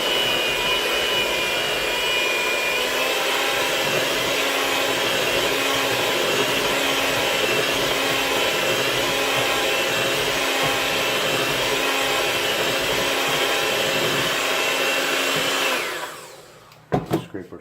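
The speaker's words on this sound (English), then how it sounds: "let's hit it again with the mixer. Medium-high speed." An electric mixer whirs steadily at medium-high speed through pound cake batter, a loud continuous motorized drone that runs alone for about sixteen seconds before cutting off, followed by a few brief clatters.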